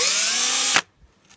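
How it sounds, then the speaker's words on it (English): A power drill spinning a brake hone whines loudly and steadily against the painted metal of a timing chain cover on a Buick 225 engine in an old Jeep, then cuts off abruptly, leaving near silence. "now I have a brake hone on a drill and I am trying to get the paint"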